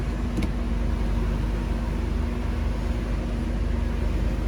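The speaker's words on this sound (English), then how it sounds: "Listen to the way it runs right now. Idle is like perfect." A BMW 325e E30 engine idles steadily at close range, a smooth continuous low hum with a constant drone and no revving, lasting throughout.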